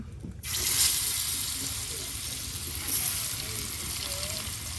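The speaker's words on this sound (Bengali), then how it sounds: "বোয়াল মাছের এই যে আপনার পিসগুলা ভেজে নেওয়া হচ্ছে।" Spiced boal catfish pieces fry in hot oil in a village kitchen, giving a loud, steady sizzling hiss up close that swells slightly at times.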